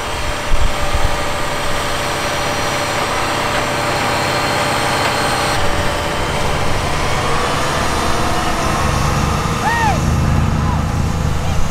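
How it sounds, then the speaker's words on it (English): A big blue tractor's heavy engine drones steadily and loudly throughout at an outdoor festival, with low rumbling and occasional strain, while people talk faintly in the background. "That big blue tractor, they just struggling with it."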